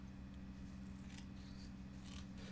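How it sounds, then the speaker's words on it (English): Scissors snipping through the tab of a dry snuff package, several quiet crisp cuts close by over a steady low hum. "I will be using the scissors for this."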